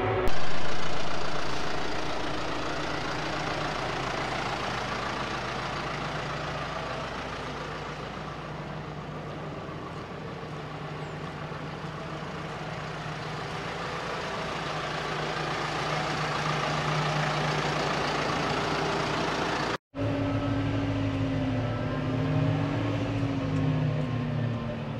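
A John Deere 6120M tractor engine runs steadily for the whole stretch, a loud, continuous diesel drone with a brief cut near the end.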